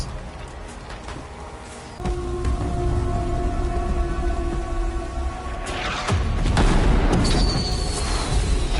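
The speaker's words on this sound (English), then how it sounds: "Just fireworks though" Fireworks in the video game Death Stranding 2, heavy booming blasts and crackling bursts over a continuous rumbling bed, growing denser and louder toward the end, with no talk.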